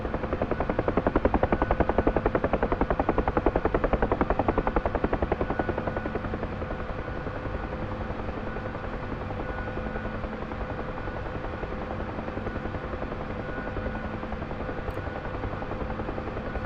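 Rapid, steady thudding of a UH-1H Huey helicopter rotor in the DCS flight simulator, with a constant engine whine, continuous and close throughout, slightly louder at the start.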